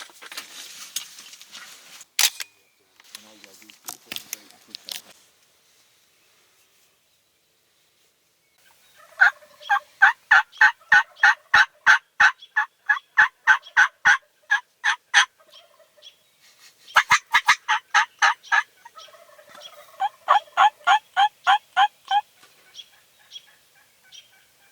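Wild turkeys gobble during a spring hunt in Oregon, with loud, close bursts of rapid, rattling gobbles repeated in several runs after a quieter opening.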